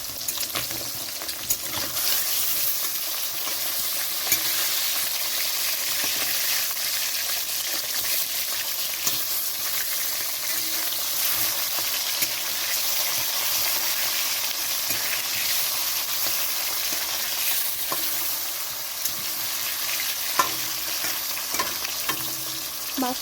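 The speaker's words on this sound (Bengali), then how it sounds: "কড়াইতে সর্ষের তেল গরম হয়ে গেছে, তো মাছগুলো ছেড়ে দিচ্ছি ভাজার জন্য।" Shankar (stingray) fish frying in hot mustard oil in a wok, with a steady, close, loud sizzle that crackles on without a break and no voices over it.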